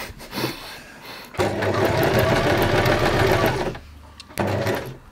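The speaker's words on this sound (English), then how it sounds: "lift your presser foot up, leave your needle down, turn it and sew off the corner" A sewing machine stitching a quilted table runner, running in short bursts with a fast, steady mechanical whir and brief pauses between runs, close and alone.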